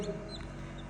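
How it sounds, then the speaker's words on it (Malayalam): A newly hatched chick in a homemade fish-box incubator gives a quick, faint cheep over low background noise, lasting under a second. "ഇന്ന് നമ്മൾ കോഴിക്കുഞ്ഞുങ്ങളൊക്കെ വിരിഞ്ഞു തുടങ്ങിയിട്ടുണ്ട്"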